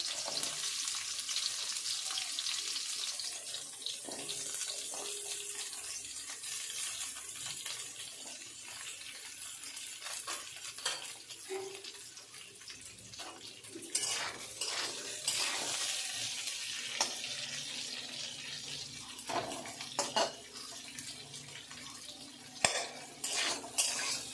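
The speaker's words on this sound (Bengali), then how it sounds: "এবার পেঁয়াজটাকে ব্রাউন করে ভাজবো" Quartered small onions fry in a pan toward browning, a low continuous sizzle punctuated by scraping stirs and clinks of utensils against cookware, with a faint run of water in the background and no talking.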